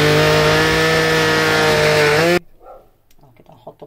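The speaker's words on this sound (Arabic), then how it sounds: "هنضربه مع بعض في الخلاط بقى كده" A blender roars loudly and steadily for a couple of seconds blending lentils, then shuts off abruptly, followed by quiet clinks and faint talk.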